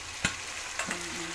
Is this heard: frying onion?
yes